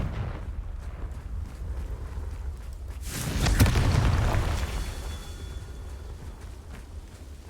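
Confringo blasting spell from Hogwarts Legacy bursts into a single loud, broad explosion mid-clip, swelling quickly and then trailing off into a low rumbling decay over quiet ambient background.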